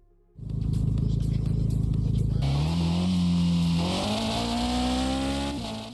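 A car engine in the open-world racing video game Street Racing Evo revs up and holds a loud, steady drone, with pitch climbing as it accelerates and easing off at the end, alone without talk.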